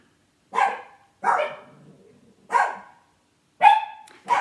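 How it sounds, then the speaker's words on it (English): Dogs bark indoors in loud, separated single barks, five in all with pauses between, close to the listener and with no talk over them. "The dogs are going nuts."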